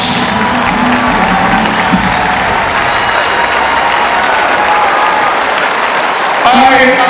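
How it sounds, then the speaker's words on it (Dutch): Large crowd at a show segment of a Dutch event applauds and cheers for champions, loud, sustained clapping with shouts layered in, and an amplified voice breaking through near the end. "Geef ze nog één keer, een applaus."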